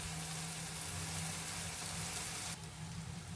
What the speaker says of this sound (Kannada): ಈಗ ಆನಿಯನ್ ಮತ್ತು ಟೊಮೆಟೊ ಎಲ್ಲ ಚೆನ್ನಾಗಿ ಫ್ರೈ ಆಗಿದೆ